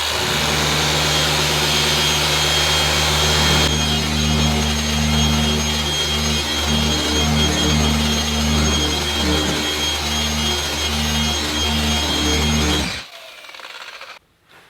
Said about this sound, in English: I am gonna pull out the polisher and just touch the paint to see what we could do